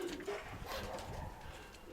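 Hungry pigeons coo softly up close, a few faint murmuring calls over quiet background.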